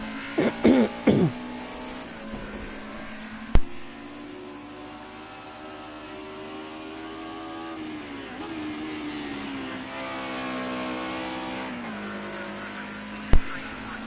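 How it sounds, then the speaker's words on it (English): Race car engine in a Group B racing video game lap at Zolder, a steady droning tone rising and falling through gear changes for most of the run, with brief sharp clicks and a few short bursts near the start; no talk over it. "So that's a little bit of an on-board final sector there from Soggy Squirrel's perspective."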